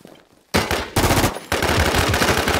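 Rapid automatic gunfire in the survival game Infestation, fired at attacking creatures: loud, close bursts of shots that start and stop and then run on continuously.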